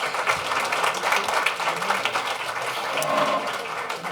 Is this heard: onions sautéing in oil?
no